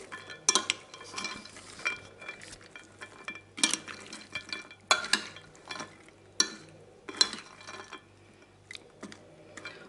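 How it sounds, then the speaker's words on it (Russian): Zucchini and large nuts are stirred in a hot frying pan, giving a series of irregular scraping and clinking strokes over a faint sizzle, fairly quiet and close. "И аккуратненько перемешать."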